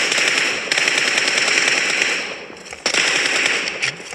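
Rapid gunfire in a mobile shooter game, loud bursts of shots in quick succession, with a brief pause midway before the firing resumes.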